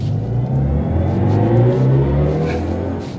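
A 2024 BMW i5 M60 electric sedan hums and swells steadily as it accelerates without boost, a smooth low rumble with a rising whir, loud and close throughout.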